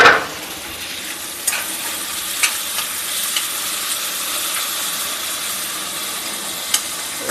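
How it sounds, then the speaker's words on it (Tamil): Tomatoes tumble into a pan of softened onions, a sharp hiss at the start settling into a steady sizzle with a few faint utensil taps over the following seconds. "இப்போ நம்ம தக்காளியும் போட்டுடலாம்."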